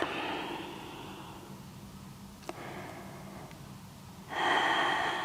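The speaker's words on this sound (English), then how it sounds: "come back to the sound of your breath" Slow, meditative breathing during a vinyasa yoga routine: a long exhale, a quiet pause with a small click, a soft inhale, then a stronger close breath at the end, with no talk.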